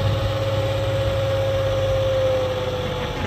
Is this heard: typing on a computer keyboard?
no